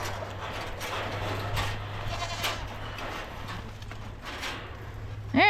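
Goats on a farm being herded toward pasture make bleats over a busy background of rustling and hooves, with a louder, close bleat rising clearly at the very end.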